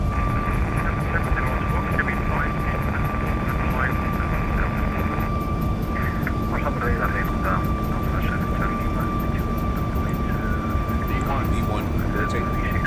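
Airliner engines roar steadily during a night takeoff roll, with a broad, sustained rumble while cockpit voices and radio calls talk over it.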